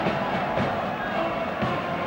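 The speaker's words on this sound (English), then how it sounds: "The crowd now responding to the loudspeaker appeal to leave the pitch." A large football crowd spilling onto the Wembley pitch at the 1975 West Ham v Fulham FA Cup final makes a steady, dense roar and murmur, with a commentator talking over it.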